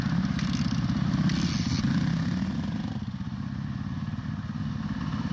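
A KTM 500 EXC dirt bike engine runs steadily, a loud, continuous low rumble that holds throughout with a slight dip partway, and no speech over it.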